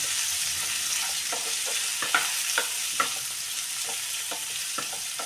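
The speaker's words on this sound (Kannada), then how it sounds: "ಹಾಕಿಬಿಟ್ಟು ಮುಂದೆ ಸ್ವಲ್ಪ ನಾವು ಮಿಕ್ಸ್ ಮಾಡೋಣ" Hill gooseberries stirred in a pan with turmeric and pounded masala, with a steady soft sizzle and regular scraping strokes of the spoon, close and fairly loud.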